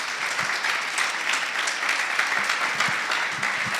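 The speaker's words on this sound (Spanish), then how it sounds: "denle un aplauso a Cristo." Steady applause from a church congregation, dense clapping throughout at a fairly loud level, with no talking.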